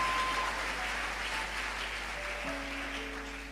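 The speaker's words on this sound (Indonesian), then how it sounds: "Saudaraku, tepuk tangan saudaraku." A church congregation applauding during a sermon, a brief burst of clapping that starts full and slowly fades over a few seconds, with a faint tonal hum in the background and no talking.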